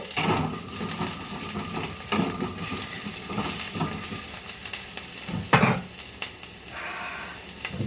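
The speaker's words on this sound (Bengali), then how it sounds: "আলুগুলোকে ভাজবো" Potatoes fry in a pan with an uneven sizzle, broken by sharp stirring scrapes and knocks of a utensil against the pan at close range, and nobody speaks.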